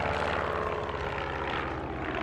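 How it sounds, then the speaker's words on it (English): A propeller airplane drones steadily overhead in the video game Duck Sim, a loud continuous engine hum filling the whole moment with no other sounds. "the plane coming by"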